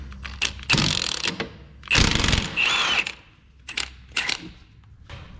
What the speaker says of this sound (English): 21 millimeter to remove the caliper bracket bolts.